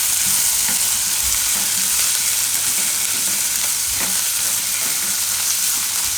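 Tomatoes land in a pan of frying onions for a Gujarati green bean shaak, and a loud, steady sizzle fills the clip. Spoon scrapes and stirring clatter come through close up.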